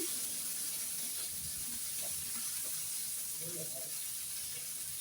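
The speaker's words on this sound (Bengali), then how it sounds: "এখন কিছু লবণ দিয়ে ফুলকপিটা তেলে ভেজে নেব" Cauliflower fries in oil with salt, a continuous bright sizzle heard up close with occasional soft stirring clinks underneath.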